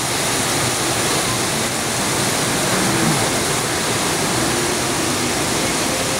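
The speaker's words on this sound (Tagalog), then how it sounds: "Halos isang oras nang tuloy-tuloy yung buhos ng ulan dito sa Ayala." Heavy, continuous rain pours down in Ayala as a steady, dense broadband roar with no breaks, close and loud throughout.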